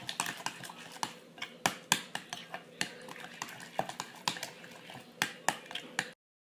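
A spoon mixes grilled eggplant, garlic, salt, yogurt and tahini in a bowl for Syrian mutabal, giving close, irregular clinks and soft scrapes with steady rhythmic taps against the bowl.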